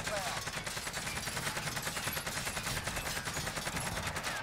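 Rapid automatic AK-47 fire in Call of Duty Cold War, a dense continuous stream of close, loud gunshots that runs the whole stretch without pause.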